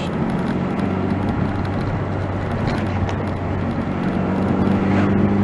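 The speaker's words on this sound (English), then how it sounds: "Oh, I've missed driving this car." A Rover Mini Cooper on a test drive, its engine droning steadily and loudly from inside the cabin with road noise, constant with no talking.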